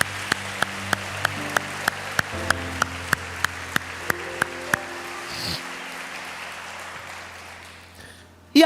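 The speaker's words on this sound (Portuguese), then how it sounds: "Vamos aplaudir a palavra de Deus?" A church congregation claps together in a steady, even rhythm, about three sharp beats per second. The clapping stops partway through and gives way to a quiet room hum, with a brief loud knock at the very end.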